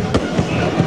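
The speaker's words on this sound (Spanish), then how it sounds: "Hinchas peruanos abarrotaron las calles con bombardas, petardos y fuegos artificiales" Fireworks and firecrackers set off in crowded streets by celebrating football fans, giving a few sharp bangs over a dense, continuous crackle and roar of crowd noise.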